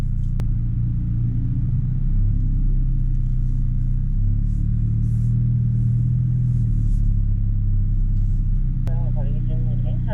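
A Hyundai Avante N in normal mode runs a slalom, its engine a loud, steady low rumble with mild shifts in pitch as it weaves, while someone talks over much of it.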